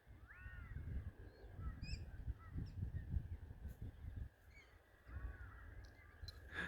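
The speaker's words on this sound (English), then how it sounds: "Two birds." Crows cawing outdoors at sunrise, a few harsh calls scattered over a steady low rumble of wind or distant background noise, fairly faint and with no talking.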